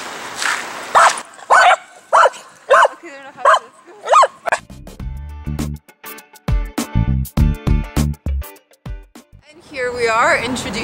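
Several dogs bark at a small dog park in Helsinki, Finland, sharp close barks in a fast irregular series with yips, a voice talking over part of it.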